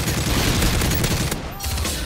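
Call of Duty Modern Warfare 3 gunfire rattles in a loud, dense burst of rapid shots, close and continuous with a brief dip near the end, no talk.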